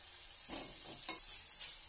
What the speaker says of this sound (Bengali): বাকি যেটা ডালটা ছিল সেটা বড়া ভেজে নিচ্ছি